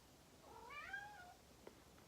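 A pet cat named Kachu gives a single drawn-out meow with a rising-then-falling pitch, fairly close but soft, followed by a faint brief tap in an otherwise quiet room.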